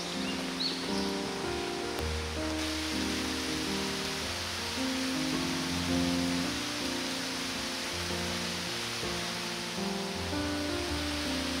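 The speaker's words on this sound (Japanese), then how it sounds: "残念ながらね、雨が降りよるんよ、今。" Steady rain falls at a riverside campsite in a gorge, a constant broad hiss that lasts throughout, with no voices.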